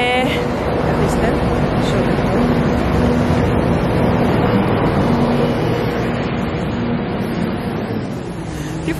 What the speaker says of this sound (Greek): Τι φασαρία κάνει αυτό το λεωφορείο.